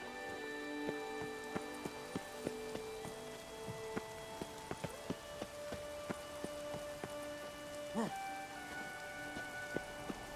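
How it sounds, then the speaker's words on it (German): Steady rain patters on surfaces in The Witcher 3, with scattered distinct drip taps over a soft, even hiss. "Sieht nach Regen aus."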